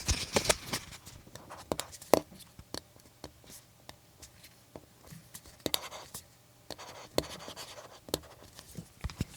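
A stylus clacks and taps on the screen of a Boox e-reader while writing, giving sharp, irregular clicks between quiet stretches, close and faint.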